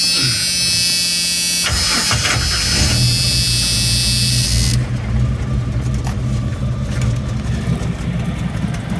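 A Jeep engine running after a push-button starter ignition modification, loud steady idle hum with a sharp transition early on as it catches, then a settled buzzing drone close by without talk.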